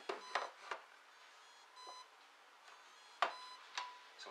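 A brushless ESC for an RC boat gives faint electronic startup beep tones in short bursts amid a few soft clicks, quiet and close, with gaps of near silence between them.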